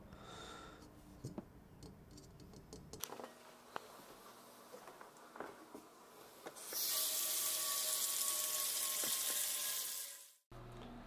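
Tap water pours steadily into a kitchen pot being filled to boil a computer CPU, a loud, even rushing hiss that builds midway and runs for several seconds before cutting off abruptly, with a few light clinks beforehand.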